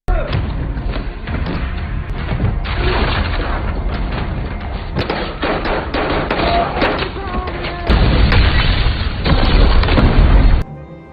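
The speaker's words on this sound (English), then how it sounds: "he throws a bomb that kills many Russian soldiers" A bomb blast in a war film scene with Russian soldiers, heavy booming thuds and bursts over a dense, loud battle soundtrack that swells near the end before cutting off.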